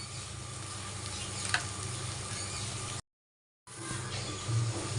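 Spices with turmeric, garam masala and salt sizzle steadily in a pan, a soft even frying hiss with occasional stirring taps, broken by a short silent gap.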